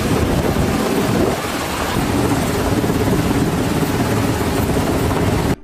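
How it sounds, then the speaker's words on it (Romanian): Coast guard helicopters hover over floodwaters during a rescue of stranded people, a loud, continuous rotor roar with buffeting wind noise, close and steady throughout, no talk. "Paza de coastă a intervenit cu elicopterele pentru a recupera mai mulți oameni din mijlocul puhoaielor."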